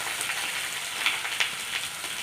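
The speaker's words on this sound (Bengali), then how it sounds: "এগুলি ভালোভাবে ভাজা হচ্ছে" Cardamom and bay leaves fry in hot oil in a wok, giving a steady, soft sizzle with a few sharper crackles and no voices.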